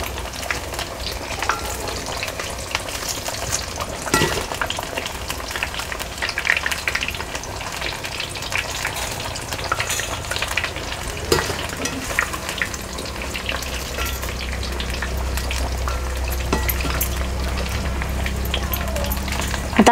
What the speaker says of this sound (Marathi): हा मस्त आपल्याला हे छान असं तळून घ्यायचं आहे तेलामध्येच